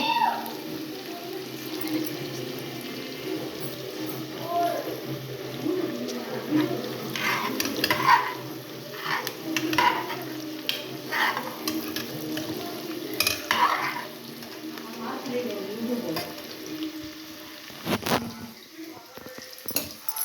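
Vegetable rice being stirred in hot oil and ghee in a cooker, with steady sizzling under a spoon scraping and clinking against the pot in bursts, while people talk nearby.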